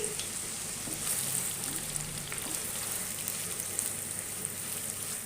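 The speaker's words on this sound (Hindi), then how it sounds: "अब इस ऑयल में मैं एक दरमियाने साइज़ की प्याज है जिसको मैंने स्लाइस में काट लिया है, ये डालूँगी।" Sliced medium onion frying in oil for a moong dal mangochiyan curry gives a soft, even sizzle, faint and continuous like light rain, with no talking over it.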